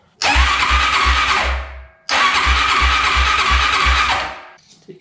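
A Honda 400EX ATV engine on choke with fuel temporarily hooked up, being started after a carb clean: two loud, close bursts of about two seconds each of churning starter cranking and engine sputter, separated by a short pause.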